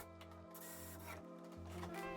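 A powered screwdriver drives screws into a plywood apron on a mid-century teak sideboard, whirring in two short bursts separated by a brief pause, close and fairly quiet.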